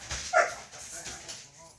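A single short bark rings out from a dog in a home craft room, then fades into faint low whimpering and background murmurs.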